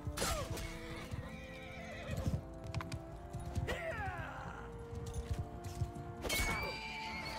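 Horses neigh and whinny loudly several times amid a video game battle set in the Viking age, with hooves clip-clopping and clashing combat sounds underneath.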